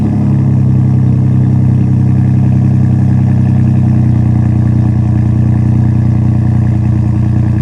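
A Ford F-150 with a 3.5 liter EcoBoost engine fitted with an exhaust made for the 5.0, running with a loud, steady deep exhaust drone that rises slightly partway through, close by with no talk.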